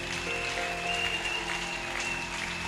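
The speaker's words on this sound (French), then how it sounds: "Est-ce qu'on peut acclamer? On peut acclamer." A church congregation applauds a pastor's ordination with steady, even clapping and a sustained tone underneath, continuous and moderately loud throughout.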